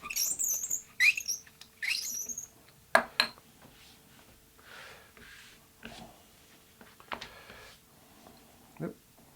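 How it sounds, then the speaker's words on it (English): Squeaks from a roller pressed over layered orange and black leather guitar strap pieces, a run of short, high, chirping bursts at close range, loudest in the first few seconds and then sparser and fainter. "I'm terribly sorry for the squeaking noise"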